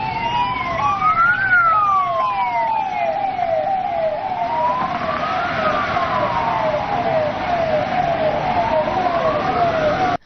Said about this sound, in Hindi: एम्बुलेंस के सायरन